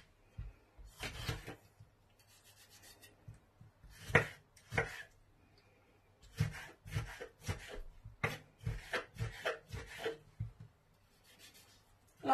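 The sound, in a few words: finely chopping peeled tomatoes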